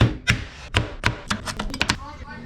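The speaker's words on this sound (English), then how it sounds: "Here's a cute little montage of us chopping food." Kitchen knife chopping food on a cutting board during home cooking, a run of about a dozen sharp close chops, spaced at first and then quickening into a faster flurry, with no voices.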